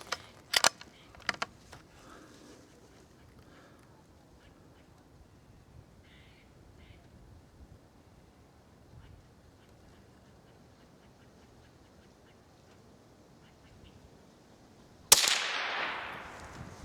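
A .22 rifle with a 24-inch barrel fires CCI Uppercut ammunition. A few short cracks come early, then a long quiet stretch, then one louder shot with a trailing decay near the end.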